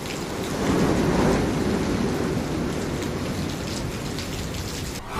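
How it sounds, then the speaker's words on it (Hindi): Heavy rain pours steadily as Cyclone Yaas approaches coastal Odisha and West Bengal, with a dense, constant roar and a low rumbling swell near the start. No voices are heard. "ओडिशा पश्चिम बंगाल के कई हिस्सों में बारिश और तेज हवाएं भी शुरू हो गई हैं"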